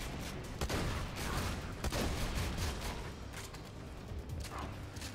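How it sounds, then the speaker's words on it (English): In Borderlands 2, automated cannons pound away in sharp repeated blasts over a constant rumbling barrage of game gunfire, several distinct heavy shots standing out from the din. "Take down these auto cannons."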